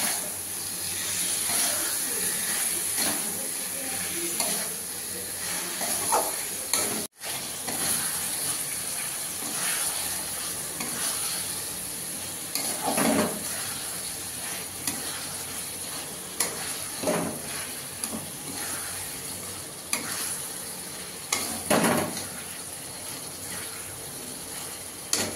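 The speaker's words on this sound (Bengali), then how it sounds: "চিকেনগুলো এবার দিয়ে আমি এটা ভালো করে কষাতে থাকি। আমি একটু একটু করে গরম জল দেবো আর কষাতে থাকবো।" Chicken is stir-fried in a pan while hot water is added bit by bit, making a steady moderate sizzle and hiss with periodic spatula scrapes and one sharp clunk early on, with no talking.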